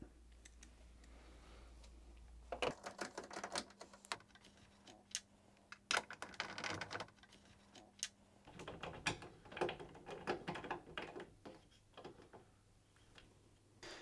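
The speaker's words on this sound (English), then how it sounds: "remove the top of the appliance by undoing the 3 screws at the back using a 7mm socket" Screws are undone at the back of an appliance top with a 7mm socket, giving faint ticking ratchet clicks and small metallic rattles in irregular bursts with pauses between them.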